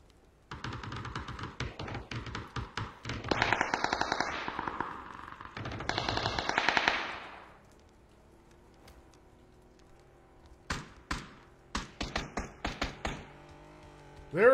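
Rapid bursts of video game gunfire, loud and close: rattling automatic volleys and sharp repeated shots in two clusters, separated by a quieter stretch of game ambience.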